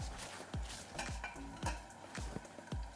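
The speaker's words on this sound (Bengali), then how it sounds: "চিনি দিয়ে ভালো করে নাড়াচাড়া দিয়ে এখন আমি নামিয়ে নেব।" Prawn and pumpkin curry is stirred in a pan over the heat, with a soft ongoing sizzle broken by regular scraping strokes of a spoon, about five or six in a row, close and fairly quiet.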